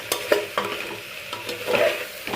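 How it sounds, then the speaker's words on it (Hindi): Food being stirred and mixed in a frying pan after dal is added, with a few scraping strokes over a soft sizzle, close and clear with no talk. "अब इस सबको अच्छे से मिक्स कर लेंगे"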